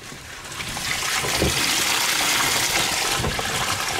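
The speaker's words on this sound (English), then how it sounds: "I just fill up with the garden hose." A garden hose fills a 30-gallon plastic trash can with water outdoors, giving a steady, close gushing rush that swells slightly in the first second and then holds even, with no talking.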